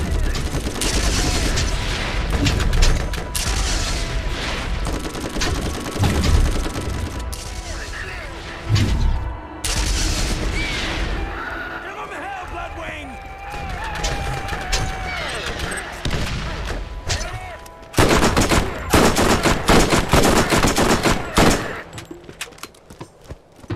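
Rapid gunfire from a strong weapon in Borderlands on Nintendo Switch, loud close bursts of repeated shots with brief pauses and clanks, over a spoken voice at times.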